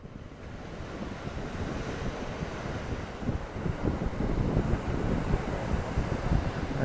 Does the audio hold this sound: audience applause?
no